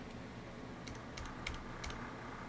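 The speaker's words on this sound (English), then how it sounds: "I'm typing out what they have for each of these things" Soft, scattered key clicks from typing on a computer keyboard, a few taps in an irregular rhythm, faint beneath a steady fan-like hiss.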